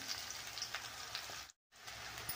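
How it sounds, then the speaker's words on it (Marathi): Onion sautéing in a pan, a soft, steady sizzle and crackle, faint and close, broken by a short moment of complete silence. "आता कांदा असा चांगला मस्त परतून घेणार आहे"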